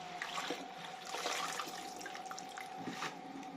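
Water trickles and splashes steadily as it drains from washed mint leaves through a strainer, with soft dripping and gurgling close by, fairly quiet and without talk.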